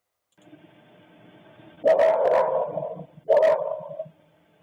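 A dog barks twice, loud and close, the two barks a second or so apart over a faint low background hum.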